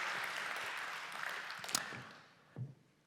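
Audience applause at a workplace health and safety conference rolls on as the president is welcomed on stage, fading gradually to quiet, with a brief knock or shuffle near the end.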